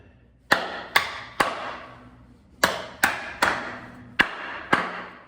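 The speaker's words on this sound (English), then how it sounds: "hit the top of the nail head with the nail punch" Hammer striking a nail punch set on a nail head in wood in a concrete basement, eight sharp ringing metallic blows in two uneven clusters, close and loud with brief decaying ring after each hit.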